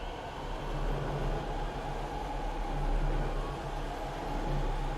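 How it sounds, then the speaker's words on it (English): Tram ride in the sci-fi horror game Dead Space, a steady low rumbling hum of the moving car with a faint rhythmic mechanical drone, continuous and moderately loud, without voices. "going back on the very long tram"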